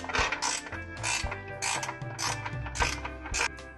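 A ratchet tightens the bolts on wrap-around bumper guards of a 1950 Chevy Fleetline, giving a rapid, loud, close clicking in repeated bursts of back-and-forth strokes with no voices.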